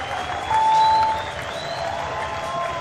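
A crowd at a skateboarding street contest keeps up a steady roar of cheering and applause that swells briefly and holds, with whistles and shouts rising over it.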